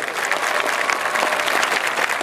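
Dense, steady applause from a crowd, loud and continuous throughout with no pauses.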